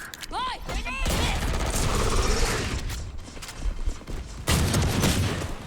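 Loud, rapid bursts of video game gunfire pour out almost nonstop, with a few whooping electronic tones at the start.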